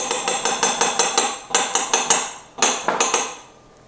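A spoon scraping coconut oil out of a jar, heard as quick, rhythmic scratchy strokes in short bursts, close and fairly loud, with no other sound around them.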